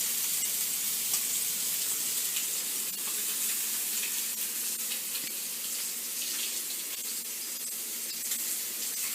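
Seasoned pork chops sear in a weathered non-stick pan with a steady, dense sizzle and crackle that runs unbroken from start to finish, close and moderately loud, with no talking.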